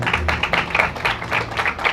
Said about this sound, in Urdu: زوردار تالیاں بجائیں گے